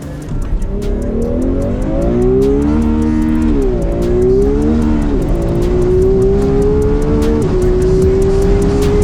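A loud, high-pitched Ferrari 12Cilindri Spider V12 engine revving up to 9,500 rpm and holding at a screaming pitch, the tone rising in steps as it climbs, close and continuous.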